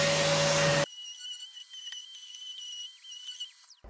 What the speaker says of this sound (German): Wir machen das Ganze jetzt mit dem Exzenterschleifer.